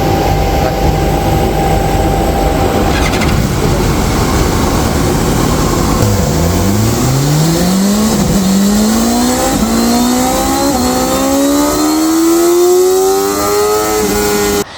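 Ducati M1000 XR motorcycle engine running on a dyno, loud and close, climbing from a rough idle into a long, rising rev sweep and holding high revs near the end.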